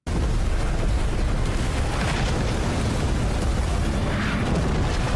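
Cannon fire and explosions from a naval battle in the film Noryang: Deadly Sea, a dense, loud, continuous rumble of blasts and roaring bursts that carries on without pause from start to finish.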